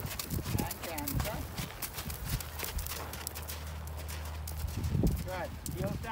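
Horse hooves canter in a riding lesson arena, a steady rhythmic clip-clop running through the clip under an instructor's voice, with a low continuous hum in the background.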